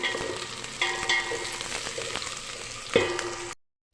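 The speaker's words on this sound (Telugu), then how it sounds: "ఇప్పుడు కొంచెం పుదీనా వేసి ఫ్రై చేద్దాం" Mint leaves sizzle and fry in a pan while cooking restaurant-style chicken biryani, a steady close crackle with occasional stirring clinks, cutting off abruptly at the end.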